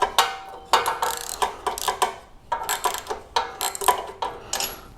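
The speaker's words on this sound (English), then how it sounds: "We'll go ahead and put that socket over there. And we will loosen it up." A socket wrench ratchets in quick repeated bursts of clicks while loosening a spark plug on a Greensmaster reel mower, close and crisp with no talking.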